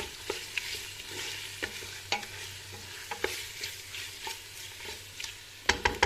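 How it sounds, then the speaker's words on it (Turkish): Pepper paste and tomato paste sauté in a pan for a Turkish summer vegetable stew, a soft continuous sizzle broken by repeated scraping stirs and a few sharper utensil knocks near the end. "Biraz biber salçası, biraz da domates salçamızı ekleyerek salçamızla da kavuralım."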